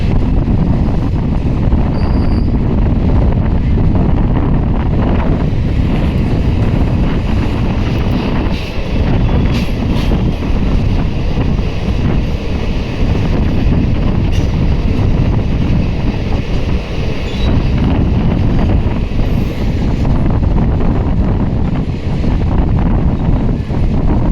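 A long, steady rumble of a freight train rolling past on a double-line track, with heavy wind buffeting the microphone and occasional faint wheel squeal.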